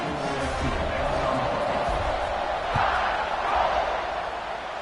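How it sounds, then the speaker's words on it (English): Stadium crowd noise from a college football video game, Alabama versus Nebraska, a steady loud roar and buzz that swells slightly toward the end, with no clear talk over it. "this crowd is buzzing after that last score"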